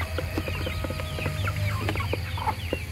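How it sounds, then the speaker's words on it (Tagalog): Native chickens cluck on a farm in a close, busy chorus of short repeated clucks and calls over a low background hum. "dito tayo sa ating mga alagang native na manok"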